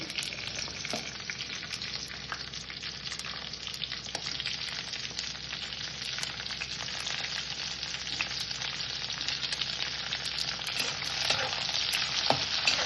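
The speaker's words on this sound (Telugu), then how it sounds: "మళ్ళీ మూకుడు పెట్టుకుని నూనె వేసుకుందాం ఇందులో పండు మిరపకాయలు" Red chillies frying in hot oil in a wok, a dense continuous sizzle with light stirring scrapes, close and steady with no voices.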